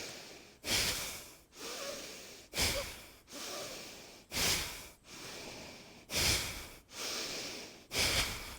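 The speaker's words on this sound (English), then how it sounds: "And then exhale forcefully." Forceful rhythmic exhalations during a morning yoga breathing exercise, six sharp nasal puffs spaced about every second and a half, each followed by a softer, longer breath in, close and loud.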